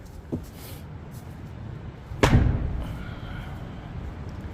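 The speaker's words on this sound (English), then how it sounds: "let's pop the hood and take a look at what is under the hood" The hood of a 2023 BMW M2 released from inside the car, heard as a soft click followed by a single louder near thud, with quiet room ambience before and after.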